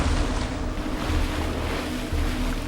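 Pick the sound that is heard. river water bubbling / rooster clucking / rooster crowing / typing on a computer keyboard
river water bubbling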